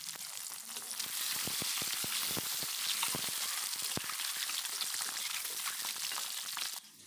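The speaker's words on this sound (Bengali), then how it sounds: "তো এদিকে ডিমটা ভাজা হচ্ছে" Oil sizzles and crackles steadily as an egg fries in a hot pan, close up, with sharp pops scattered throughout; the sizzle drops off abruptly near the end.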